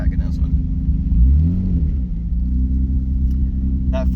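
Nissan 300ZX sports car pulling away in first gear, a loud low engine rumble that rises and dips with revs, heard from inside the car while people talk over it.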